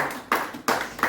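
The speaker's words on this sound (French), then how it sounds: "Acclamons pour le Seigneur." Congregation at a French-language church service claps for the Lord, three bursts of clapping with crowd noise, loud and close, in about a second.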